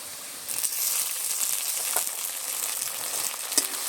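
Ginger-garlic paste fries in a pan with spiced, marinated chicken for a lemon curry leaf chicken dish, giving a steady, close sizzle with occasional small pops and crackles.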